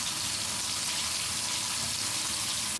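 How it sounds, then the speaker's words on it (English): Tap water gushes steadily into a bath as it fills, a loud, continuous broadband hiss that cuts off abruptly at the end. "Prepare yourself a bath"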